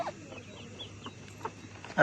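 Soft clucks from a few chickens come and go over a quiet, low background, with a sharper squawk right at the end.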